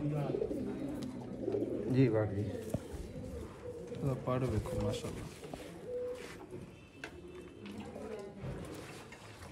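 Pigeons coo repeatedly in soft, throaty rolls close by, while someone talks over them for most of the time.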